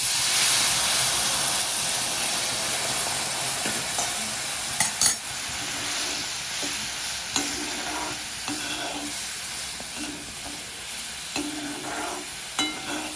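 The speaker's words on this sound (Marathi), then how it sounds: "मसाला चांगला तळला गेला बघा आता हे गरम पाणी टाकायचं थंड पाणी टाकायचं नाही" Hot water poured into frying masala for Bombay duck curry sets off a loud, continuous sizzling hiss, close and steady, with occasional stirring scrapes and clinks against the pan.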